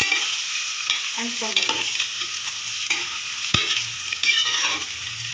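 Eggs frying with masala in a pressure cooker, a steady close sizzle broken by scraping stirring strokes and a sharp utensil tap, with a few words spoken briefly.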